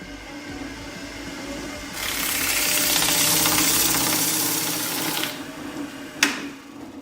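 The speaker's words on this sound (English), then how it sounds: "I'll just hit this with some sandpaper right now." Sandpaper pressed against a cherry burl bowl spinning on a wood lathe gives a steady, close hiss for about three seconds over the lathe's low hum, then a brief sharp scrape near the end.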